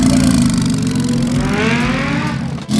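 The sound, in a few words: Nissan 370z car engine revving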